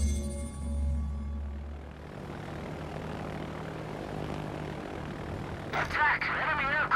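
Enemy aircraft engines in the World of Warships naval video game, a low propeller drone that fades in and out, with a brief burst of game sound effects near the end.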